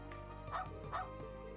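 A dog in the video game Trails into Reverie gives a couple of short yipping barks that trail into soft whimpers, close and clear over a steady tonal music bed.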